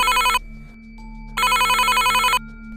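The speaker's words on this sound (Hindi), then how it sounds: "उसके फ़ोन पर किसी का कॉल आया।" A telephone rings with an incoming call in two loud electronic bursts separated by a short pause, close and clear with no talking over it.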